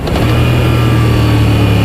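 A 2016 Moto Guzzi V9 Bobber motorcycle engine runs loud and close, a steady throaty drone held at high revs.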